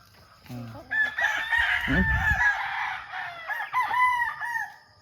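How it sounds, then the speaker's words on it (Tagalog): A rooster crows loudly nearby in a backyard chicken range, a long drawn-out call followed by shorter crows, with chickens clucking around it. "Daghan na kay tag manok"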